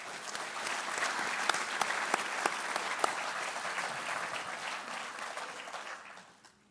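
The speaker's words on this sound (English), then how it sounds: "Please join me in a round of applause for this outstanding class and all those who have supported them along the way." Loud, sustained applause from an audience for the 77th Virginia Beach police academy graduating class, a dense continuous clatter of hands that swells briefly and then fades out toward the end.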